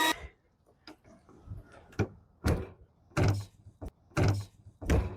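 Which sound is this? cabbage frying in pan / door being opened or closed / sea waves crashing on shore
door being opened or closed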